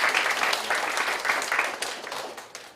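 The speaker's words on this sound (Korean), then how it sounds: "우리 박수 한번" A church congregation claps during a Sunday worship service, a short burst of steady applause that fades slightly toward the end, with no talking over it.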